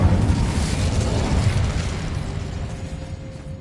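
An Incendio fire spell is cast in Hogwarts Legacy, erupting in a loud, close whooshing burst of flame that rumbles and then slowly fades, with no talk.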